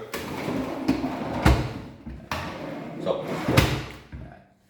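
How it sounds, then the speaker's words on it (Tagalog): Wooden drawer of a newly installed master-bedroom wardrobe cabinet being pushed shut, giving a few loud thumps and slams, one heavy knock near the middle and another toward the end, with voices talking around them. "So, ganun ka ano yung drawer natin, no?"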